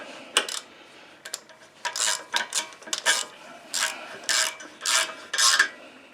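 Ratchet tightening an exhaust bolt on a Craftsman YS4500 lawn tractor: close, crisp clicking bursts in short uneven strokes, about a dozen rasping pulls with brief pauses between them, no talking.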